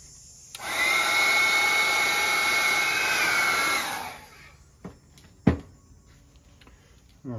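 A heat gun blows a steady, loud whooshing roar for several seconds while heating shrink tubing during a compressor pressure switch modification, then cuts off, leaving a few faint clicks and knocks nearby.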